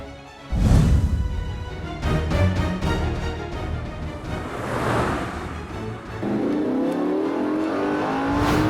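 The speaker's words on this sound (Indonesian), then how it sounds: "Sheila, kamu gas dong sekarang." A car accelerates hard during a chase, its engine surging and rising in pitch over several seconds, loud and close, with road and wind rush around it and no voices.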